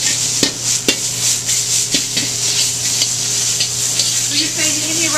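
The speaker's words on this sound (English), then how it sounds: "So, a little bit of oil. What kind of oil? Olive oil. Olive oil, okay. And then, I'm gonna fry the meat." Meat frying in olive oil in a hot wok at a Peruvian restaurant kitchen: a steady broad sizzle runs throughout, punctuated by sharp metallic scrapes and clanks of stirring, loud and close.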